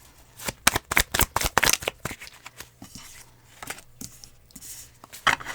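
Tarot cards are shuffled and drawn from a deck, close up, as a run of crisp papery flicks and slaps followed by a few softer, sparser taps.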